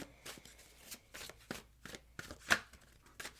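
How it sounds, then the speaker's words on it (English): Tarot cards are shuffled by hand in a quiet room, soft repeated riffles and flicks about every half second, with one sharper snap near the end, close and fairly faint. "I'm just going to shuffle a bunch of times until it feels right"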